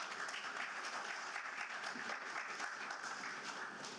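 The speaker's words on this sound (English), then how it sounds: "Please give him a huge round of applause." An audience at a college orientation gives a guest a round of applause, a dense, even, continuous clapping from many hands at a moderate, somewhat distant level throughout.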